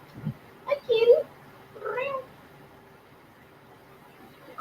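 A house cat meows several short times close by, a brief burst followed by a longer cry, with a quiet room between calls.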